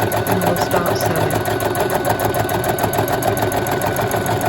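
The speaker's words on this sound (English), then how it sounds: "So we'll do our even speed and we'll start sewing." A Bernette B35 sewing machine free-motion sewing at an even speed, its loud, continuous rapid needle chatter and motor hum running steadily throughout.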